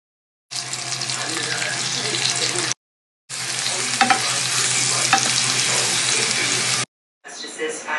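Ginger sautéing in a pan for chicken tinola, a steady broadband sizzle of frying and stirring in two long stretches broken by short silences, with faint scraping clicks and a brief return at the end.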